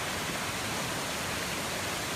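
Steady broadband roar of a waterfall at Plitvice Lakes in Croatia, constant and fairly close with no breaks, running alone without voices.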